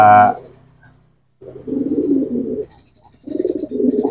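A pigeon coos in courtship during pairing training, two clear bursts of rolling, throaty calls close by, separated by a short pause after an initial loud sound.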